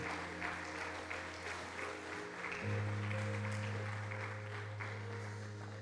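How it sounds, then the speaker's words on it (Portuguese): Church congregation applauding during a communion service, a soft, distant patter of clapping over a steady organ or keyboard drone. "Você pode dar uma salva de palmas a Jesus"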